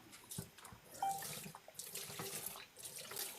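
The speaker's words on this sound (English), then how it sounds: "Are you hearing water?" Water runs from a tap into a sink, a faint, steady splashing stream with small clinks and irregular bursts, heard quietly on its own indoors.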